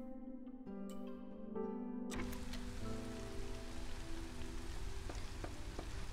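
Steady rain falls in the video game Against the Storm, a dense hiss of drops on surfaces that starts abruptly over soft game music and continues evenly to the end.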